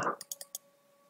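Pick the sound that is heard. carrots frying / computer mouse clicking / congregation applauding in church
computer mouse clicking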